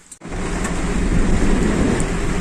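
Heavy rain pours down on a road trip along the Nandankanan road, beginning abruptly after a brief quiet moment and continuing as a loud, dense, steady roar.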